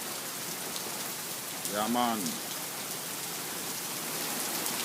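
Steady rain falls outside a barber shop, a continuous close hiss that fills the whole scene, with someone briefly speaking over it midway.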